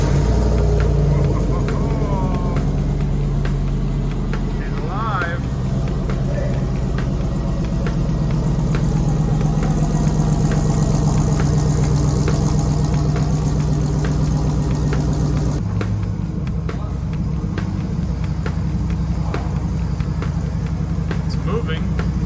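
A Chevy Silverado pickup with a solid axle swap runs at a steady, rumbling idle close by, its even engine drone continuing throughout beneath occasional talk.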